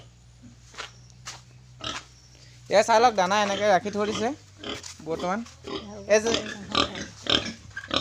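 Pigs on a pig farm grunt and squeal, a run of loud harmonic squeals near the middle among shorter grunts, heard under someone speaking.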